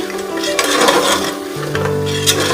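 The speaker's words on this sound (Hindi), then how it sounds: "बहुत अच्छी तरह योगर्ट को इसके साथ भून लेना है ताकि कच्चापन खत्म हो जाए" Goat trotters are stirred and fried with yogurt in a pot, a spoon scraping and clinking against the metal over a soft sizzle, with steady close-up handling throughout and no voices.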